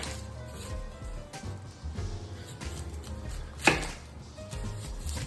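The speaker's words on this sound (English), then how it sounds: "We're cutting the onion." An onion is cut on a board with quiet, scattered knife strokes and one sharper chop, close by and faint, with no talking.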